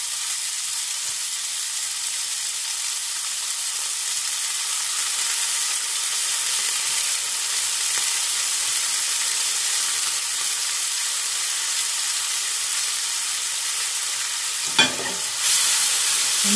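Mushrooms frying in a pan with lemon juice, a steady bright sizzle running throughout, then a sudden louder burst of hissing and stirring near the end, with no voices.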